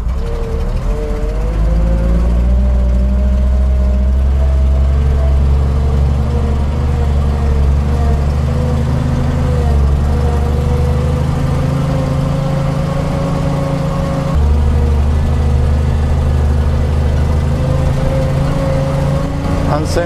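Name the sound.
Volvo TP 21 military radio vehicle engine driving off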